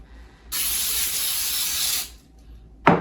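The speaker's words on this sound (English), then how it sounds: "And I'm gonna spray this so that it don't stick." Aerosol cooking spray on a tray for cinnamon rolls so the dough won't stick, one loud continuous hiss of about a second and a half, followed by a sharp clack.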